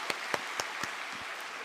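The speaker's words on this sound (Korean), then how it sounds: "우리 하나님께 영광의 박수 올려드리겠습니다" A church congregation at an autumn dawn revival service gives a short burst of applause to glorify God, heard as a few loud separate claps in quick succession from a room of worshippers, fading within under two seconds.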